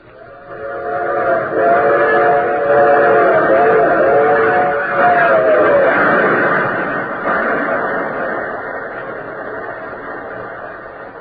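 Train running as a sound effect in a crime audio drama, a steady loud rumble of rolling wagons with a whistle-like tone rising early on, continuous throughout.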